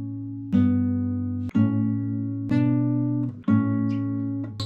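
Acoustic guitar strummed through a simple three-chord progression, four loud ringing strums spaced about a second apart, each chord sustaining clearly with no talking over it.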